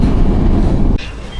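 An LRT light rail train rumbles loud and close, a dense low roar that drops abruptly about a second in, leaving a quieter hum with a faint high tone.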